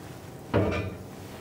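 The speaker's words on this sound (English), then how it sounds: "Let's open this door and take a look inside." A heavy steel cook chamber door on a large backyard Goldee's offset smoker swings open in one short creaking, clanking sweep lasting under half a second, close and moderately loud against a quiet outdoor background.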